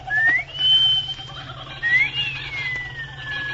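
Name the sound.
wolf whistle in a radio drama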